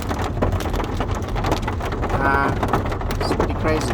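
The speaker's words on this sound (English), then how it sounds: "So we're in a hailstorm." Heavy, dense pelting of hail on surfaces during a hailstorm on a farm in Portugal, a steady loud clatter throughout, with a person talking and exclaiming over it.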